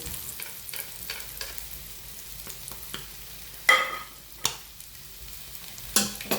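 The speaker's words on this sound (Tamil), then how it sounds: "ஒரு ரெண்டு நிமிஷம் தக்காளி பழம் வந்து இந்த எண்ணெயில் வந்து வதங்கட்டுக்கும்" Tomatoes fry in oil for an egg curry, giving a quiet, steady sizzle broken by several sharper scraping stirs of a utensil against the pan.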